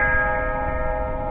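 Bells ring together in a steady, sustained tone that keeps going through the whole moment without any pause, fairly loud, with no voices over it.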